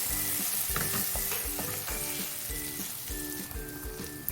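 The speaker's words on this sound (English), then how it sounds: "I'm just going to saute it for another 15 seconds or so" Dhania powder being sautéed in a pan for chicken curry, a steady close sizzle with rhythmic spoon scraping and stirring throughout.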